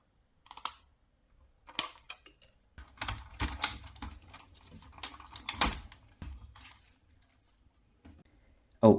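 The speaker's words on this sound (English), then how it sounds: "let's start with taking off the plastic straps." Plastic straps being pulled off a 1/18 scale Bumblebee V2 Transformers model toy, a series of close, sharp plastic clicks and rustles in irregular bursts with quiet gaps between.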